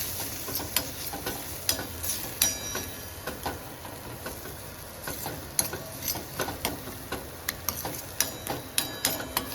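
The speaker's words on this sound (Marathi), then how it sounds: "त्याच्यानंतर कोथिंबीर टाकूया, सगळं व्यवस्थित हलवून घेऊया।" Potato vada pav filling being stirred with turmeric and coriander, repeated sharp spoon clicks and taps against the pan over a faint sizzle, coming in an irregular steady rhythm.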